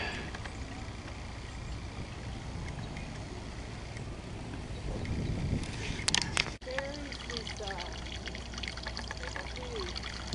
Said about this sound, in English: You hear the gurgling of the brook?